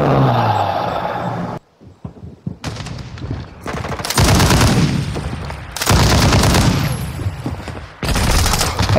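Dense automatic gunfire and machine-gun bursts from a Call of Duty: Modern Warfare II match, loud and near, firing in long sustained stretches broken by brief pauses, with explosive booms mixed in.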